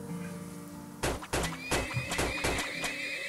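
Horses whinny in the oil-drilling video game Turmoil: a quiet stretch, then a run of loud, sharp game sound effects with several neighs and clopping thuds in quick succession.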